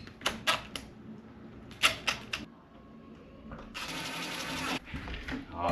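Screws are tightened on front door hardware, giving sharp clicking ratchet-like bursts in small clusters followed by a longer whirring run, close and moderately quiet with no talk.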